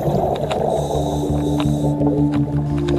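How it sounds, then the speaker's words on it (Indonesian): A diver's breath bubbles underwater in a freshwater cave, a continuous close gurgling rush with periodic bubbly bursts and muffled low rumble, no voices. "terusik oleh suara gelembung dari napas"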